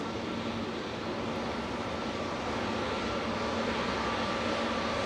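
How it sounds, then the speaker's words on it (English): A Ryanair airliner touching down at Manchester Airport produces a distant, fairly faint continuous engine rumble and hiss that swells slightly toward the end, heard alone. "Ryanair just touching down"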